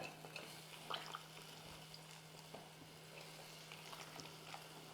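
Large eggplant pieces sauté with masala in a clay pot, giving a faint, soft sizzle with light stirring scrapes over a steady low hum.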